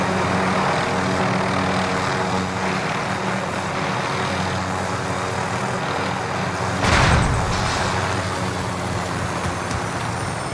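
Steady, loud engine roar of a plane being flown in a video game, a continuous broadband drone throughout with a brief louder whoosh or boom about two-thirds of the way through.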